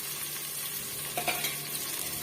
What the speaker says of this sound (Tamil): ஒரு பச்சை மிளகாய் கட் பண்ணி வச்சுருக்கேன் அதையும் சேர்த்துக்கலாம்